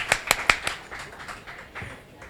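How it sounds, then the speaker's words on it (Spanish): A brief spattering of applause from the audience at a book presentation for "La sastrería de Scaramuzzelli", a few sharp claps at first, then thinning into scattered faint patter under light room noise. "Un aplausillo."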